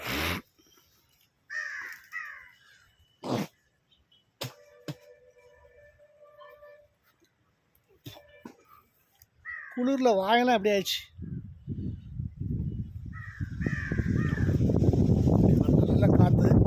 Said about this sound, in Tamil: ஊட்டியில் உள்ள காக்காலாம் எப்படி இருக்கு பாருங்க